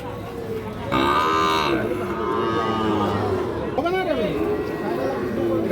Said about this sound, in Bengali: কোথায় গরুগুলো চলেন তো দেখি আমরা